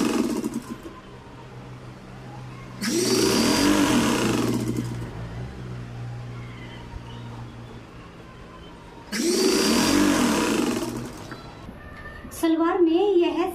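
Sewing machine stitching a two-panel salwar runs in two loud bursts of about two seconds each, close and whirring, with quieter pauses between, and someone talks near the end.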